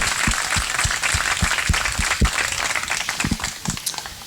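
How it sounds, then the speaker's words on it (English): Guests at a wedding break into applause, a moderate crowd of clapping hands with distinct individual claps standing out near the microphone, steady over several seconds. "And so let's get a round of applause."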